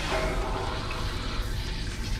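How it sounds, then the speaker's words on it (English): An RV toilet flushes in a steady rush of water, close and fairly loud, running the whole time without any talk over it. "flush your toilet and get all the pink out of it."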